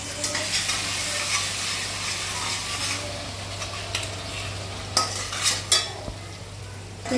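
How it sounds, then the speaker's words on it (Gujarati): Homemade chutney sizzles and fries in a few ladles of hot oil, a steady close crackle with stirring scrapes and occasional sharper clinks of a spoon against the pan. "એમાં જે આપણે ચટણી બનાવી હતી એ હવે એમાં નાખી દઈશું. તેલ ગરમ થાય એટલે નાખી દેવાનું."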